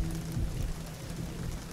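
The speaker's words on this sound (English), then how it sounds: "It's raining there, it's raining" Rain falling in Life Is Strange Remastered on PS5, a steady soft hiss of rainfall with a low rumbling undertone, continuous and evenly spread throughout.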